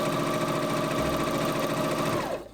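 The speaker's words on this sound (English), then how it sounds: "I'm gonna start with these straps, so just a normal straight stitch. Sewing my first strap." A Singer Quantum Stylist sewing machine runs a straight stitch on a dress strap, a steady close mechanical whir with rapid needle rhythm that carries on for over two seconds before stopping abruptly.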